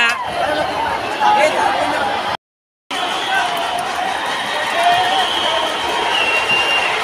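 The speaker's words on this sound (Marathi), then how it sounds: "मित्रांनो बघू शकता एवढा मोठा जल्लोष आहे आणि एवढी पब्लिक आहे ना चिंचपोकळीच्या चिंतामणीला" Large festival crowd at the Chinchpokli Chintamani arrival procession, a loud, continuous babble of shouting and cheering voices close by, briefly cut off by a moment of silence.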